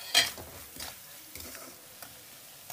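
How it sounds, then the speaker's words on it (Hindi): A spoon stirs ginger-garlic paste with salt, turmeric and chili powder in a pan, giving scattered scraping clicks and a soft sizzle, fairly faint with a sharper tap near the start. "अब इसको 2 मिनट तक चला लेते हैं"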